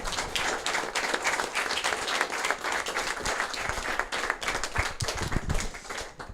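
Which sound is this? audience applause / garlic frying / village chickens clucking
audience applause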